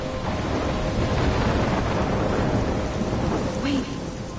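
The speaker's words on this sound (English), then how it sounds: "I'm trapped in a storm?" A thunderstorm with heavy rain in the video game Life is Strange: dense, steady, loud rain with rolling thunder rumbling underneath throughout, no voices.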